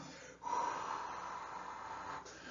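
A person imitates labored, asthmatic breathing with one long strained, wheezy breath drawn in and pushed out, close and fairly quiet.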